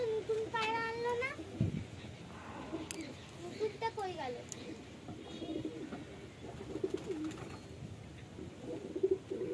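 Fantail pigeons cooing in low, throaty bursts close by, mixed with chirps of other birds and a voice now and then.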